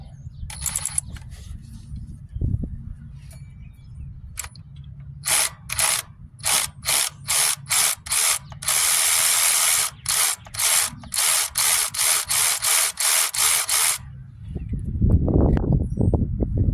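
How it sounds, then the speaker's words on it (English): A ratchet backs a stud out of an engine, producing a loud, rapid run of regular clicks that continues in a rhythmic series for several seconds, then gives way to a brief rattle. "And take this stud out right here."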